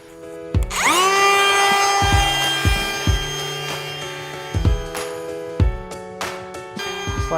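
A power router plunge-cuts a hole into a vinyl fence post, its high-pitched motor whine spinning up loudly and running steadily, broken by repeated bursts of cutting as the bit bites into the plastic, close and alone.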